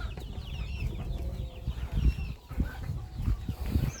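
Young chicks huddled under a heat lamp give faint, thin, high chirps and squeals over low shuffling thumps and background rumble close by.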